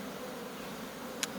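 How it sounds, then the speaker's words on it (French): A honeybee swarm buzzes steadily around a hive, a continuous close hum with one brief faint tick near the end. "l'histoire avec les essaims, c'est qu'on a beau essayer de les mettre dans des ruches, des fois ils n'aiment pas ça."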